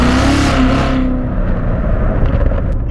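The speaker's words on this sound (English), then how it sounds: "Let's do an acceleration in this thing." A C8 Corvette Z06 launches hard with its tires spinning, the engine roaring loud and close as it revs up, then settling into a steady heavy drone as the car pulls away.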